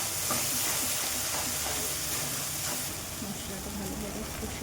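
Mustard paste sizzles and hisses in a hot pan for Bengali-style prawn malai curry, a loud, steady frying hiss that barely changes throughout.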